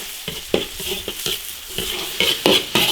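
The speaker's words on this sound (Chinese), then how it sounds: "大蒜、洋葱末末炒香" Garlic and minced onion stir-fried in an iron wok: a steady close sizzle broken by quick, rhythmic scraping strokes of the spatula, with no voices.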